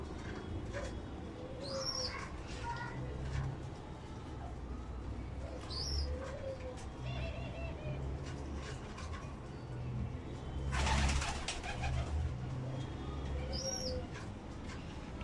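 Tame pigeons coo in short repeated phrases, with a few brief chirps and soft flapping over steady low background noise, while a young pigeon calls for food.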